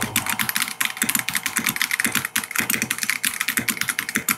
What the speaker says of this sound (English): I'll let you hear the typing ASMR.